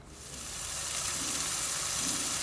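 Cauliflower and peas curry masala frying in hot oil in a pan: a steady, close sizzle and hiss that swells slightly and holds, with no talking.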